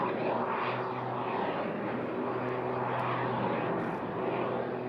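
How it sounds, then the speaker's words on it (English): An aerobatic display plane fitted with a small booster rocket roars past at a seaside airshow. The engine noise is loud, steady and broad, with no pauses and no talk. "he's got a little booster rocket on the side now. It really, really sounds strange"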